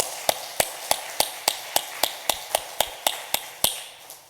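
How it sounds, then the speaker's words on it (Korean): Church congregation at a Korean Sunday afternoon service, clapping in unison for Sunday school teachers: about fourteen sharp, evenly spaced claps in a steady rhythm, fairly close and reverberant, with no talking. "다시 한번 박수 쳐드리겠습니다"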